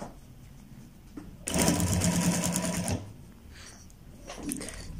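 A sewing machine stitches kurta fabric in one steady, loud mechanical whir lasting about a second and a half, close by, with quieter handling sounds before and after.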